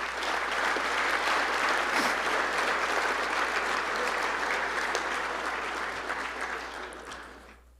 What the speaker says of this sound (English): why don't we give a round of applause to the whole team for that